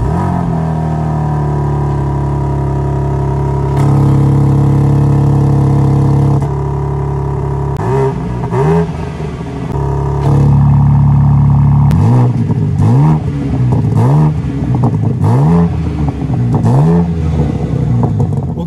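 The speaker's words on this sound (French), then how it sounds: "On a toujours le 6 cylindres en ligne, ce nouveau S58. C'est un 3 litres biturbo." A BMW M4 Competition with its S58 3-litre twin-turbo inline-six idles, then revs hard in a series of loud, sharp blips that rise and fall. The bursts grow denser toward the end.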